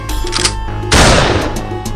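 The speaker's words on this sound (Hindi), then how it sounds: "दोनों बंदूक से गोली चला देता है" A sudden loud blast of gunfire bursts over a steady droning music bed, then slowly decays back into the background.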